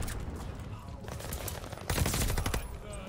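Rapid automatic fire from a Cooper Carbine in a video game, a steady rattling fusillade that grows louder and denser partway through, with faint voice traces beneath.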